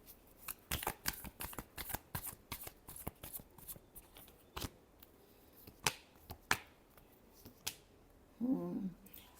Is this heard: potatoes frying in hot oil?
no